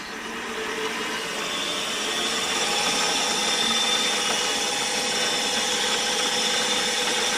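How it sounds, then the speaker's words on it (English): Small drill bit boring through the steel handle of a fillet knife held in a vise, a steady whirring drill drone that rises slightly and holds, close and loud, with no one speaking. "I know that this smaller bit is going to find center and go through, and then I can ream to size."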